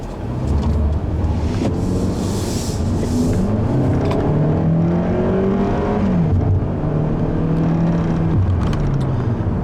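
The 1.8-litre engine of a 2014 Hyundai Elantra drones steadily and climbs in pitch as it accelerates, loud and continuous with road noise underneath, no one speaking.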